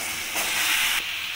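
Chicken pieces added to a frying spice paste, a broad steamy hiss that swells briefly louder for about half a second before settling back, with no talk.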